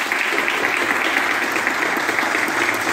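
A crowd applauds at a farewell for a doctor leaving public health work in Colonia Caroya, a loud, sustained, even wash of clapping with no pauses.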